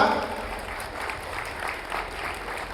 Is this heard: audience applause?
yes